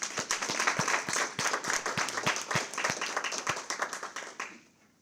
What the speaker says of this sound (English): Please give a round of applause for the Army of SLATE.